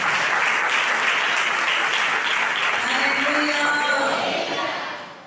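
A church congregation claps steadily in sustained applause of praise during a service, fading out toward the end.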